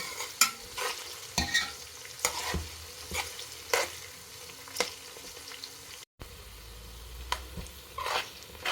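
Chopped onions fry in a pot for a mutton curry, a soft continuous sizzle under repeated scraping strokes of a spoon stirring them, close and moderately quiet with a brief dropout near the end, no voices.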